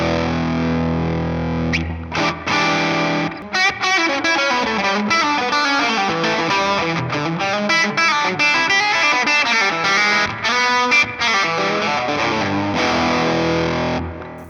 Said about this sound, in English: Nice little overdrive tone there.